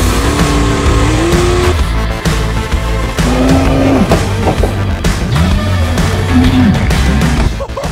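A race car spins out on a track during a passing attempt on the outside; loud, continuous engine roar with shifting revs and tire noise, close and unbroken for the whole stretch.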